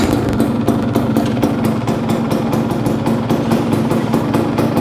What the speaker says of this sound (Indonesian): Kita coba menyalakan motor ini.